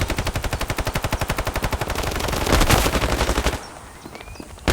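Rapid automatic gunfire from a weapon in a video game: a long fast burst of shots, loud and close, that thickens near the middle and then cuts off, leaving a quieter tail with one last shot.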